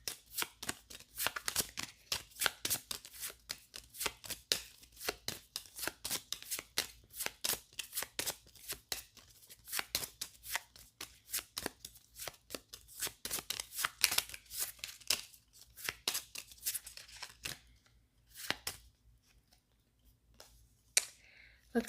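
Tarot cards are shuffled and pulled close up in a long series of quick riffling snaps and slaps, steady for most of the stretch and thinning into a few sparse flicks at the end; no voices.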